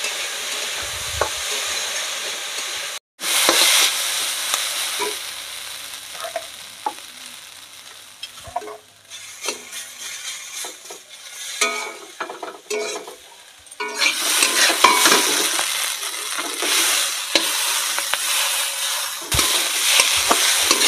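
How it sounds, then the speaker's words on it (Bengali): Potatoes, onion and chilli fry in a pan, a loud continuous sizzle with repeated stirring scrapes and occasional utensil knocks. The hiss rises and falls as the pan is stirred. "আলুগুলো ভালো করে ভেজে নেব।"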